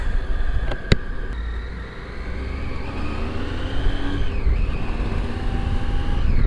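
A motorcycle fitted with new golden rims being ridden, its engine humming steadily with gradual rises and falls in pitch as it accelerates, plus wind rumble and a couple of sharp clicks early on.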